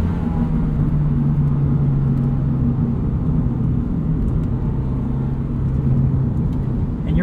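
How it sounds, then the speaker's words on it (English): Modified automatic Toyota GR86 with aftermarket intake and exhaust, driven on canyon roads: a steady, deep engine drone and rumble heard from inside the cabin, loud and continuous with slight rises in pitch. "Ah, the intake and exhaust are perfect."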